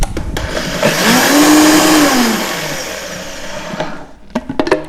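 A blender pulses raw greens for a green goddess dressing, a loud close whirring burst that rises and falls in pitch over a couple of seconds, followed by clatter and knocks as it stops.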